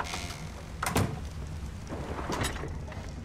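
Rain and thunder in the video game ARK: Survival Evolved, a constant hiss of rainfall with two short muffled rumbling cracks, fairly quiet.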